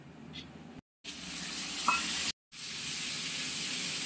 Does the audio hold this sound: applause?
no